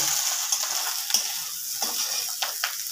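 Pieces of rohu fish sizzling in hot oil, a steady hiss with a few sharper spatters and pops, close and without talk.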